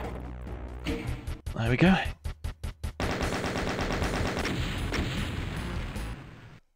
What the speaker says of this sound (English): Let's finish off with the rocket launcher.